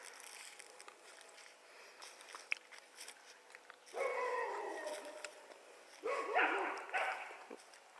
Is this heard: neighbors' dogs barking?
yes